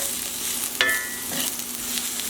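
Onions fry in a pan with a steady, close sizzling hiss, broken once by a brief sharp clink as they are stirred.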